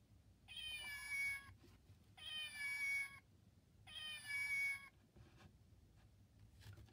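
A cat meows three times in a row, each call drawn out and fairly close, with short quiet gaps between them.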